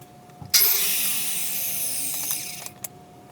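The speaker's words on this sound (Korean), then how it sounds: "바디의 경첩을 달 부분을 절단을 해주고 있습니다." A power tool cutting wood whirs to life with a sudden high-pitched buzzing cut that holds steady for a couple of seconds, then trails off with a brief blip.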